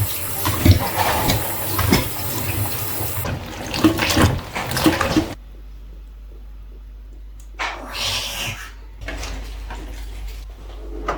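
Foraged forest mushrooms washed in water: sloshing, splashing and running-water noises for about five seconds, then near silence broken by a couple of further short splashy bursts.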